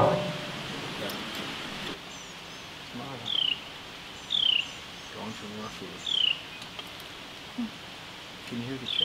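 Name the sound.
baby birds chirping, asking for food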